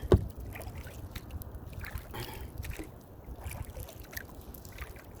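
A canoe or kayak is paddled on a mill pond, with soft, close water swishes and dribbles from the paddle over faint outdoor ambience and light wind.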